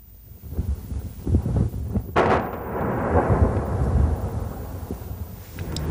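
Explosive blasting echoes through a rock salt mine: a sharp detonation strikes about two seconds in, then a long rolling rumble swells and lingers, preceded by a few low thuds.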